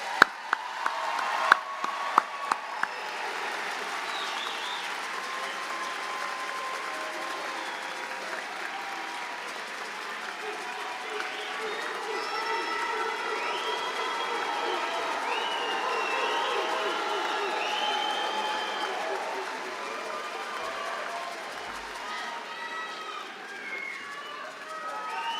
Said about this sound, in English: Please join me in giving all of our graduates another round of applause.